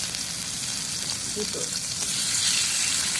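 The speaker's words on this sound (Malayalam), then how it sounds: "ഇനി നമുക്ക് മസാല പരട്ടി വെച്ചിരിക്കുന്ന നമ്മുടെ ബീഫ് ഇട്ട് കൊടുക്കാം" Masala-marinated beef steak pieces fry in a pan with ghee and pepper over a low flame, giving a steady, close sizzle with faint crackles that runs unbroken through the whole stretch, with no talking.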